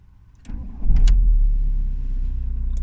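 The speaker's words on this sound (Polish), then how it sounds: "silnik odpala od przysłowiowego szczału" A 2001 Volkswagen Bora 1.9 TDI diesel turns over and fires at once: a short starter whir, then a firm catch and a steady, close diesel idle running alone to the end.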